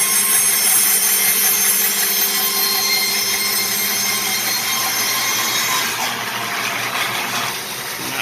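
A sawmill blade resaws a chunk of oak log, a loud, continuous high-pitched whine and grinding drone that keeps steady and then eases slightly toward the end.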